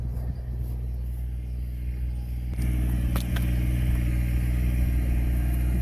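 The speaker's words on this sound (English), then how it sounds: "I'm just following the tractor down the bank." A tractor driving down a bank nearby, its engine a steady low rumble that grows louder partway through and continues without talk.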